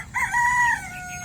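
A Texas-breed rooster from Negros crows once nearby, a clear rising then falling cock-a-doodle-doo call lasting about a second, with no talk over it.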